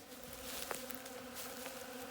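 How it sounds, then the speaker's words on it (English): Bees buzz in a steady, close drone around spilled chicken feed, with a few faint taps and rustles mixed in and no talking. "the bees are absolutely loving the"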